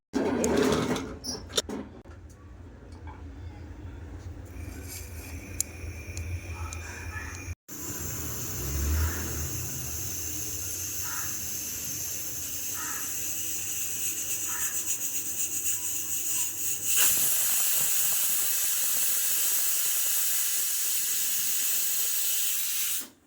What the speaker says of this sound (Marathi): ह्याच्या कुकरला बंद करून 5 शिट्ट्या काढून घ्यायच्या आहेत